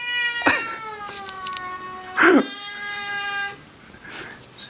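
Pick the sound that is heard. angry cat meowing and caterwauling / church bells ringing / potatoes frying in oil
angry cat meowing and caterwauling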